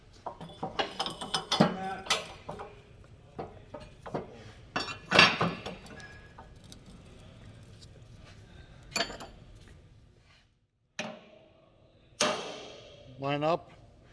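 A bolt being turned with a ratcheting tool to free a spring on a SnowFire plow, irregular bursts of clicking metal and clanks with pauses between, fairly close and up front.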